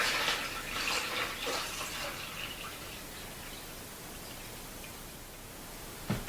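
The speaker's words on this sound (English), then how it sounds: "you're going to want to fill your EverGreen helper with water to the upper water level line." Water pours and splashes steadily while filling an EverGreen helper container up to its upper water level line, a close, continuous hiss ending in a brief clunk.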